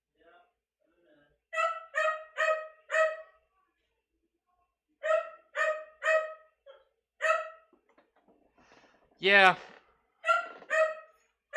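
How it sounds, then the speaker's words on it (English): Dogs bark in short clustered bursts of two to four sharp yelps, fairly close indoors, with quiet gaps between, a higher whining call, and a brief spoken word. "The puppers are barking."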